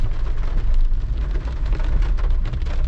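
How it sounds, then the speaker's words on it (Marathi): Heavy monsoon rain pours over Malvan on the Konkan coast near Dandi beach, a dense, constant roar of falling water with a deep rumbling underlayer. "सध्या पाणी असेल कारण जोरदार पाऊस पडतोय."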